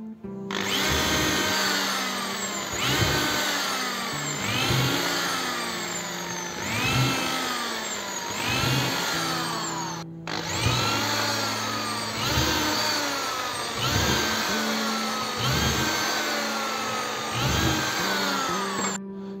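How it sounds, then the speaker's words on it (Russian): A power drill runs in repeated bursts, boring through the wooden side bars of beehive frames. Its motor whines loudly and steadily, and the pitch drops and recovers as each hole is drilled, with no voices. "дальше таким нехитрым способом мы засверливаем оставшиеся боковые"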